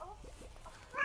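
A short cartoonish cat meow from the lucky cat character in the Crossy Road mobile game, small and bright over faint background game noise, ending in a louder final mew.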